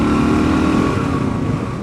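Kawasaki KLR650 single-cylinder motorcycle with an FMF Powerbomb exhaust and ported exhaust port, revving hard with a loud, gritty engine note that holds steady and then eases slightly.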